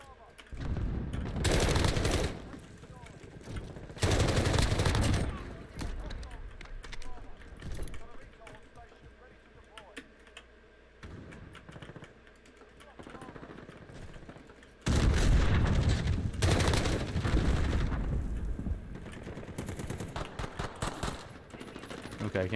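A G36C firing stopping power rounds in Modern Warfare 3 rattles off in loud, sustained full-auto bursts, with a long burst near the start, another later and quieter in-game noise between, under occasional talk.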